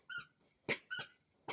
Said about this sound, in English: the dog is like squeaking the toy right now